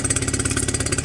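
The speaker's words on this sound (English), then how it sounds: "I just love the sound of this engine" A Mercury 9.9 outboard boat engine runs steadily at close range, a loud, even, rapid mechanical pulsing drone with no voices over it.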